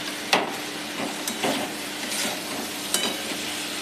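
Mourala fish with tomatoes fries in a pan, a steady close sizzle with scattered clinks and scrapes of stirring, no talk.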